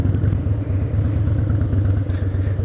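Harley-Davidson Dyna Super Glide motorcycle riding through city traffic, its engine a steady loud low rumble that holds without a break.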